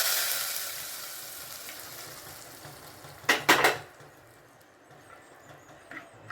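Spinach (palak) cooks in an open pan, with a soft sizzle fading early on and a brief cluster of utensil clanks against the pan midway, followed by faint occasional scrapes.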